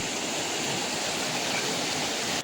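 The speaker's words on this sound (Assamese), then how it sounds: "এইটো চাওক পানী কিমান হিট গৈ আছে" Rushing floodwater pouring across submerged paddy fields in Karbi Anglong makes a dense, roaring, continuous wash of noise, loud and near, with no speech, cutting off abruptly at the very end.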